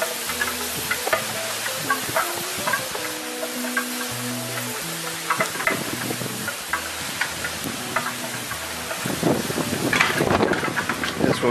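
Fajitas grilling on a grill give off a steady crackling sizzle with scattered pops and hisses, close and continuous throughout, with no talking.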